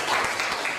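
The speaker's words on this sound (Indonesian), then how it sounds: "aplaus juga untuk Pak Surati dan Bu Ani" Applause for two honoured guests at a school gathering, a steady broadband patter of many hands clapping together, fairly close and even throughout the short burst.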